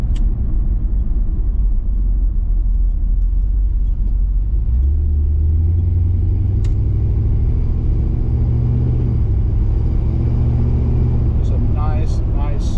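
A 1987 Chevrolet C10 with a 6.0L LS engine rumbles steadily inside the cab on a test drive, revving up partway through as it accelerates, loud and close, with someone talking over it.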